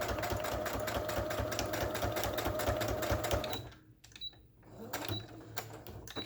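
Sewing machine stitching along the spine of a handmade billowing journal, a steady mechanical whir for about three and a half seconds, then stopping to leave quiet handling sounds.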